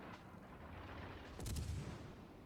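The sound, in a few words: warship turrets firing in World of Warships video game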